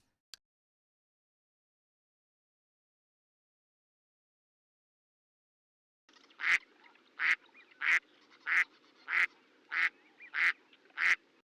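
A duck quacking from a played recording: after a long silence, eight evenly spaced, clear quacks ring out in a steady rhythm, fairly close and alone.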